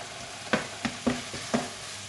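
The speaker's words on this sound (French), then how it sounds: "Et je vais bien faire revenir tout ça jusqu'à ce que ce soit bien rôti." Minced meat browns in a pan for cannelloni, a steady sizzle of frying broken by four or five distinct scraping stirs of a utensil against the pan, close and fairly quiet.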